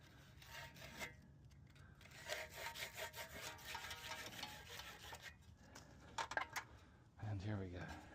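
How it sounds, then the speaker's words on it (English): A metal edge on a condenser fan motor part is deburred by hand with quick scraping and rasping strokes in short bursts. The sound is close but fairly quiet, with a voice speaking around it. "Deburr it a little bit."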